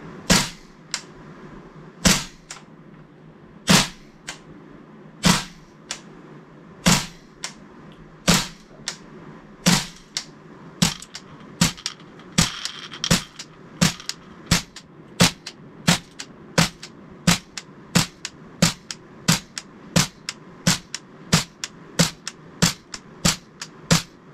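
A gas blowback airsoft rifle fed from its original magazine fires about thirty single shots at a steady, even pace. Each is a sharp, loud crack with a quick clack of the recoiling bolt, and no voices are heard.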